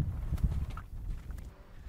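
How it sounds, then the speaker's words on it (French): Horses walking across a road, hooves clip-clopping in an uneven, steady plod at moderate distance over low outdoor rumble. "Quand ils ont soif, les chevaux traversent la route, au grand péril des automobilistes."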